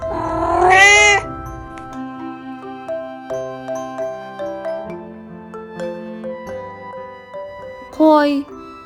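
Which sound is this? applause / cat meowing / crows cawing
cat meowing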